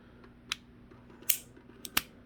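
Hammer of a Tanaka Colt SAA gas revolver (5.5-inch artillery model, steel finish) being cocked, giving a few sharp, crisp metallic clicks close up in a quiet room, with no talking.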